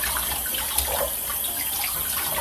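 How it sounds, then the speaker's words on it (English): Warm water runs steadily from a tap as a face rag is soaked under it, a continuous close hiss of flowing water with no voices. "I'm gonna take my face rag with warm water. Let it soak in warm water."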